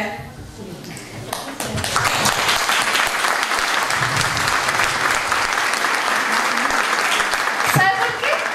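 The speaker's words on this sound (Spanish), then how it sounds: "todos le vamos a dar un aplauso a esta señora" A crowd at a leader's day celebration in San Nicolás bursts into loud, sustained applause for a woman, dense clapping swelling after a quieter opening second and holding steady to the end, with voices mixed in.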